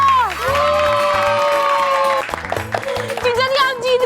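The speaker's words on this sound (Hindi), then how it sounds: "जोरदार तालियां।" In a scene from a Hindi superhero TV series, a group cheers and claps, with drawn-out shouted whoops and voices over scattered clapping, loud and close, growing more broken and excited toward the end.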